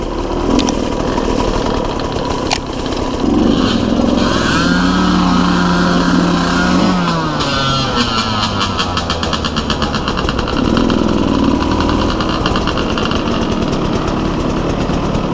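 A KTM-style 200 XCW two-stroke dirt bike engine runs steadily and loudly up close, revving and idling in waves with a rising and falling whine through the middle, alone with no talk.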